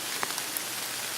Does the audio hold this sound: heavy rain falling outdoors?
yes